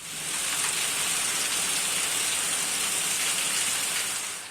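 Steady, dense monsoon rain in Satlasana, Mehsana, Gujarat, hissing evenly throughout, with no distinct thunder rumble standing out.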